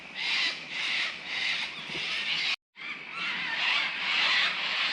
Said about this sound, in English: Cockatoos have picked a great spot to sleep the night.